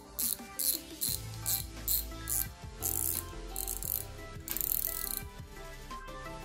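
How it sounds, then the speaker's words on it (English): A fishing reel's top screwed back on by hand during exterior cleaning, giving fast, repeated ratcheting clicks and a faint metallic rattle in quick bursts close to the mic. "then you just go ahead and screw the top on"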